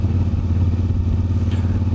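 Close, continuous low-pitched running of a CFMOTO 450 MT motorcycle at about 2000 RPM on a road ride with a 15T/45T sprocket upgrade, a faint clattering rattle riding over the even engine throb.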